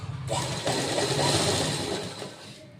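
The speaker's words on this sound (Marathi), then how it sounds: "दोन्ही पट्ट्याला अर्धा इंचावर फोल्ड करून शिलाई करून घ्यायची आहे" A sewing machine runs a continuous burst of stitching along folded blouse strips, close and steady with a fast mechanical whir that starts and stops cleanly.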